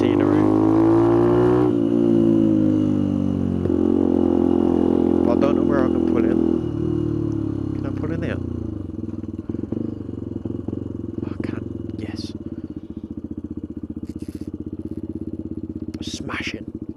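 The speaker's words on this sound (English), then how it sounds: "I love riding a bike." Motorcycle on Michelin City Grip 2 tyres cruising along tarmac A roads, with a loud, steady engine drone and wind rush that shifts pitch as it changes speed, while a rider talks over it.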